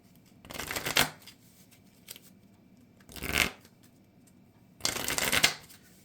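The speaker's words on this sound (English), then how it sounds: "Trying to give my deck a really good shuffle" Three bursts of a deck of Marvel Champions cards being shuffled, each a dense riffling rustle about a second long, close and fairly quiet, with soft pauses between.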